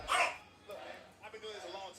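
A household dog barks loudly once or twice right at the start, close by, followed by a person talking over a stream in the background.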